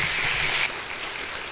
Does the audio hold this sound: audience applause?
yes